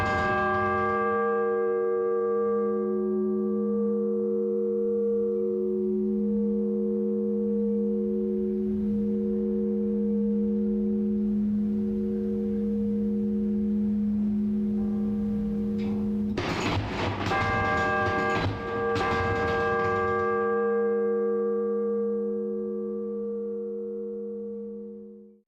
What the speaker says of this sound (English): You will hear some heavy clunking right before the bell, and that's the striker mechanism cranking back the striker and letting it loose.